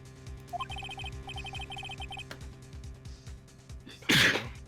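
Gumshoe from Phoenix Wright: Ace Attorney lets out a single loud, sharp sneeze near the end, following a stretch of short chiming video-game text blips over a low background music loop.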